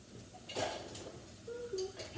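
A small kitchen bowl is taken out and handled, giving a few soft knocks and light clinks over about two seconds, close by and fairly quiet against steady room noise.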